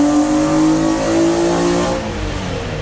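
A Nissan GTR R35 engine on a dyno during a tuning pull gives a loud, sustained revving roar that climbs in pitch, then drops off slightly near the end.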